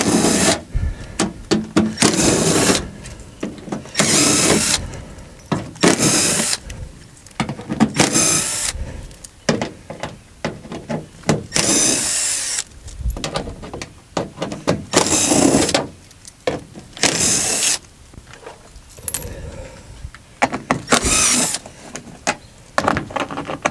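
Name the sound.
removing truck wheel liner bolts with an 8mm socket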